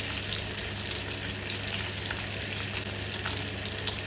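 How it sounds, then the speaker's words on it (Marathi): Besan-stuffed green chillies fry in hot oil in a Rajasthani-style dish, giving a steady, close, loud sizzle that holds without a break and with no talk. "2 ते 3 मिनिटे असं तेलामध्ये परतल्यानंतर पुढची प्रोसेस करायची आहे"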